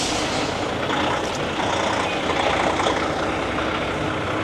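A show truck being parked during pre-show setup at the Old Town Rig Down Truck Show, with a loud steady engine rumble and hiss of air brakes, close by, no talk.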